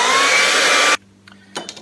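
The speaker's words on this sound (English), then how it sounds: "I'm going to dry it with my hairdryer." A hairdryer blows on a freshly blended acrylic painting with a loud, steady broadband whoosh for about a second, then cuts off abruptly, leaving a faint hum and a few soft knocks.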